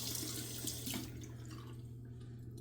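Hot water runs from a tap into a sink to rinse a 160-year-old straight razor, a steady close splash that thins and quiets toward the end, with no talking.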